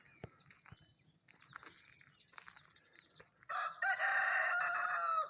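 Chickens and chicks at a campsite in Pontenx-les-Forges, Landes, cluck and peep quietly in scattered bursts, then a rooster breaks in with a loud, sustained crow near the end.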